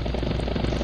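A helicopter in a military video game flies with a steady rotor chop and engine drone, loud and close throughout the short moment, with no voices.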